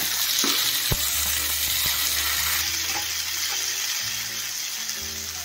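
Onion and tomato frying in a pan with curry leaves and chillies for chicken methi kheema, a steady, close hiss of sizzling oil with a few faint knocks and light stirring.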